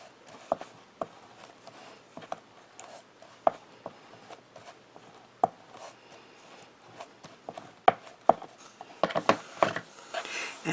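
Scored fold lines on paper for a snowflake-style folded card are pressed and rubbed with a tool, making soft scraping strokes and sharp intermittent taps that grow busier toward the end.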